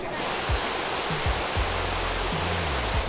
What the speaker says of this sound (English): It's the only waterfall in the world that goes up.